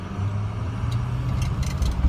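A 2005 Ford diesel one-ton utility truck with single rear wheels accelerates, its engine giving a steady, close low rumble throughout with faint higher mechanical whine on top.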